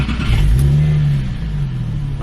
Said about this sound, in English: We've got the 200 cell crosspipe installed now. Let's see what difference that makes on a cold start.